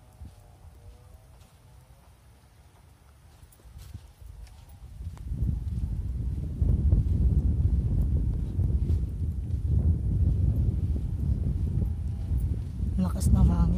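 Strong wind roars and buffets the microphone, starting faint and building into a heavy, rumbling gust that persists to the end.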